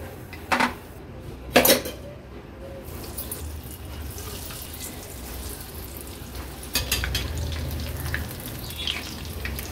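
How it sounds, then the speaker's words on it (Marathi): Crab lollipops frying in hot oil for a Marathi-style crab thali: a continuous close sizzle and bubbling with a few sharp clatters and splashes scattered through, steady and moderately loud, with no speech. "उरलेले क्रॅब लॉलीपॉप देखील मी असेच फ्राय करून घेते"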